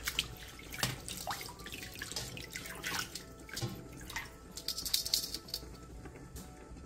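Blanched bean sprouts being rinsed under cold running water in a home kitchen: a faint trickle and splashing with scattered drips and light clinks of a bowl or strainer, and no voices.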